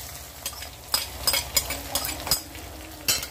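Oil sizzles quietly in a pan as cumin and onion are added and stirred, with scraping clicks and small crackling bursts recurring throughout.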